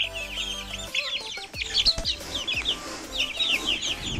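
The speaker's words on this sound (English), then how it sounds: "The Araucana is a Chilean domestic chicken named for the region it is believed to have originated in" Several Araucana chickens, a Chilean domestic breed, cluck and chirp in a farmyard, with short overlapping calls coming in quick, irregular bursts from close by.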